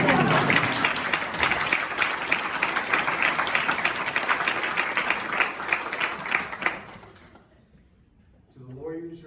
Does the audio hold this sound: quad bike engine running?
no